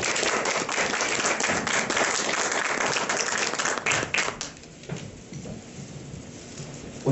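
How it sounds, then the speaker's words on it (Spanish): An audience at an academic colloquium applauds a speaker, with dense, close clapping for about four seconds before it thins out into scattered claps and quiet room sound. "vamos a pasar el micrófono con un fuerte aplauso al doctor Oscar Salinas"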